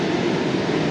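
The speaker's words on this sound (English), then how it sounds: "we just saw the VRE go by" A VRE commuter train rolls past near the Potomac Yard overpass, a steady loud rumble and hum of railcars with no pauses or talk.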